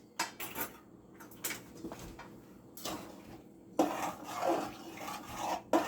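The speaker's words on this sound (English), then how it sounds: "I cover my pot." Metal lid placed on a cooking pot of Jamaican coconut pumpkin rice, a few light clinks and rattles of metal against metal, with a louder scraping clatter near the end.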